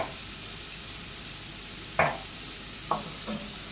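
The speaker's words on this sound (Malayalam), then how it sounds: "ഉള്ളി നല്ലപോലെ ഒന്ന് വാട്ടിയെടുക്കാം." Onions sautéing in a pan for palak rice, a steady soft sizzle throughout with a few sharp spoon knocks against the pan near the end, no voices.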